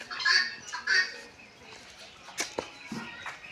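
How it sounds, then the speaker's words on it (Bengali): Native rooster calling at a zoo, a couple of rough crowing bursts near the start with later squawks amid faint background chatter. "দেশি মোরগ দেখছেন"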